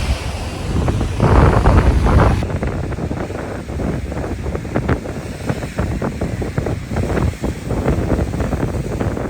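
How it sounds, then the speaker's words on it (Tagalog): Heavy Pacific Ocean surf crashing continuously on Jomalig Island, Philippines, a loud broadband roar with wind buffeting the microphone throughout. "Dito naman malakas yung alon kasi it's facing Pacific"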